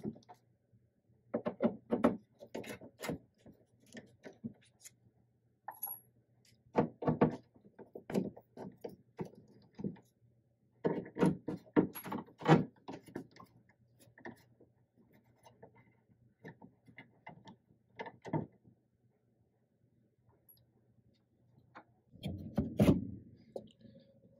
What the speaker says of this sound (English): we're going to remove these 4 T20 Torx